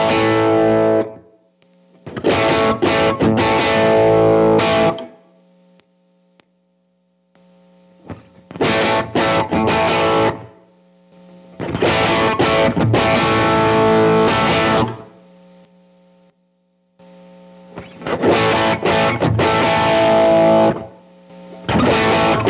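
Electric guitar with heavy overdrive played in several separate bursts with silent gaps, the distortion growing thicker and grittier from one passage to the next.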